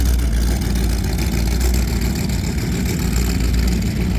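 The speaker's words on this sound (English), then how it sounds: "The throb of those beautiful V8s, nothing like it." Loud, deep V8 powerboat engines throb continuously, a heavy low growl with a steady pulsing texture and no talking, before a powerboat race.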